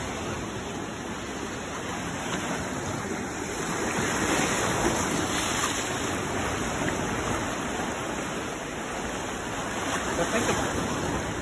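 Ocean waves wash against rocks in a steady, broad rush of surf with gentle surges, heard at moderate distance and fairly faint, with no talk over it.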